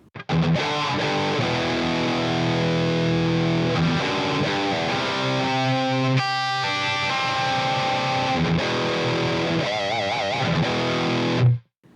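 Schecter BlackJack electric guitar through a Valeton GP200LT with low-frequency EQ cuts at 125, 250 and 500 Hz, a tight distorted rock riff of chords and single notes, loud and close, ending with a sudden stop.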